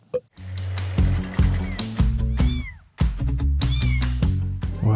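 Kittens meowing repeatedly in high, plaintive cries, several overlapping calls close by, over a steady low background hum with brief gaps of near quiet.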